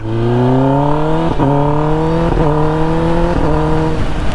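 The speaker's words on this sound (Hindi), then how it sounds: "अब कावा से की Ninja Z x ten are आज मारने वाले इस पे हम लोग व्हीली" Kawasaki Ninja ZX-10R motorcycle engine revving hard and loud at close range, its pitch climbing steadily and dropping briefly at three quick gear shifts, with no talk over it.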